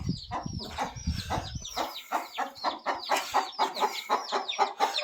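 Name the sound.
chickens and chicks clucking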